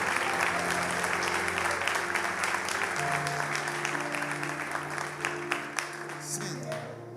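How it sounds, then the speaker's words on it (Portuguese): Church congregation applauding loudly and continuously, dense clapping over sustained background music tones, fading slightly near the end. "Você pode aplaudir ao Senhor Jesus bem forte, amém?"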